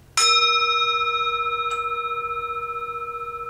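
A small gong is struck once with a large striker, ringing out with a clear shimmering tone that slowly fades, followed by a light second tap.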